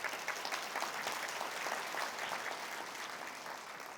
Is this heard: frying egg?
no